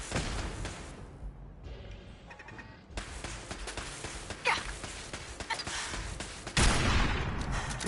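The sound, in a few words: gunfire at a turret in Fallout 4 video game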